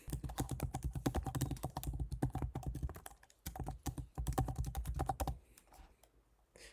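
Keystrokes on a computer keyboard as an email address is entered, a rapid, close run of clicky taps in bursts with short pauses between them, no voices.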